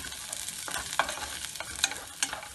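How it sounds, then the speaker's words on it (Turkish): Garlic sizzles in oil in a pan while a utensil stirs it, giving a soft continuous frying crackle broken by several scraping and clinking strokes. "Şöyle bir dakika kadar da sarımsaklarımı çevireceğim."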